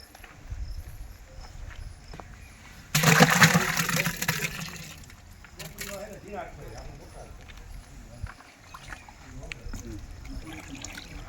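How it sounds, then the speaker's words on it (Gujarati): A sudden rush of water splashes into a natural-farming preparation with ginger and chilli for a couple of seconds, followed by mixing sounds as people talk nearby. "પાણી નાખવાનું ભાઈ હા પાણી નાખો"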